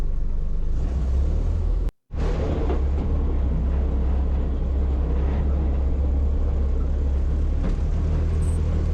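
An old GAZ-69 engine pulls away in first gear with a close, steady low rumble that holds throughout, briefly cutting out near the two-second mark before carrying on.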